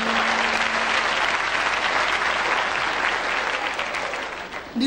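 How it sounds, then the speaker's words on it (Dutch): Dense, loud audience applause fills a live comedy theater show from the early 1980s, a continuous roar of many hands that stays strong throughout and thins slightly at the very end. "Niet te veel applaus van in het begin, want dan word ik zenuwachtig."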